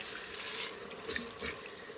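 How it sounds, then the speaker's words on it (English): Water poured into an Instant Pot to deglaze the bottom, a steady close splashing and trickling that lasts about two seconds with no talking. "So just go ahead and deglaze with some water."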